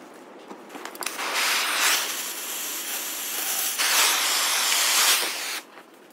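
Continuous loud hissing, grinding cut through a worn kingpin on a damaged Chinese forklift axle, steady and close, rising in intensity partway through before tapering off, with no talking.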